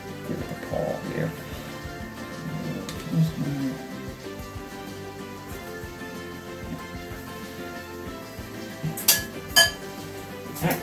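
Glass canning jars and metal lids clink together while blueberry jam is being canned, light scattered taps and clatters with a few sharper rings near the end, under quiet background noise.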